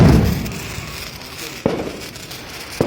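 Firecrackers popping outdoors, a loud burst at the start followed by two sharper single pops spaced apart, with faint crackling in between.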